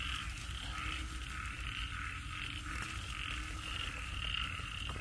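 Frogs croak steadily and continuously in a chorus, faint and somewhat distant, with no voices over them.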